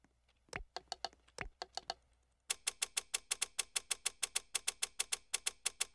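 Roblox monitor upgrades triggered by repeated clicking, first a few scattered mouse clicks, then a fast, even run of crisp clicks, close and unaccompanied by talk.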